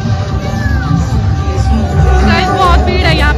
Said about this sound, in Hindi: बहुत भीड़ है यहाँ पे ना, अभी वेट कर रहे हैं, बहुत भीड़ है।